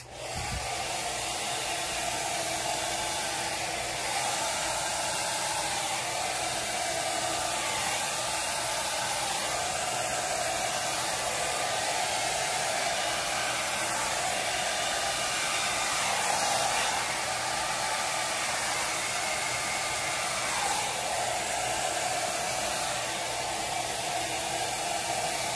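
A hair dryer blows steadily across acrylic paint in a Dutch pour on canvas, a loud constant whooshing roar that continues unbroken throughout with no talking.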